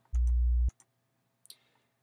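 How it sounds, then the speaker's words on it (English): A steady 60 Hz sine tone from a Pro Tools signal generator hums loud and low for about half a second, then cuts off abruptly. A few faint clicks follow in otherwise quiet surroundings. "So let's go ahead and change that down to"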